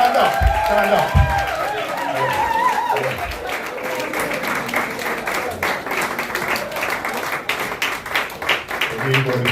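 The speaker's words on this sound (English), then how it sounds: "please give Mr. White a round of applause" An audience applauds during a student award presentation at a resort in Ocho Rios, Jamaica, with a voice and some musical tones at the start, then sustained clapping that thins toward the end.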